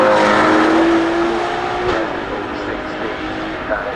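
Loud, powerful car driving past at the Goodwood Festival of Speed, with a sustained engine roar and a rising then falling whine, while speech is heard faintly beneath it.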